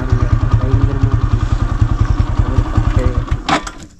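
A motorcycle ridden over a rough, badly broken road: a steady, close, throbbing engine pulse with bumpy thuds, then a brief clatter before the engine sound drops away at the end.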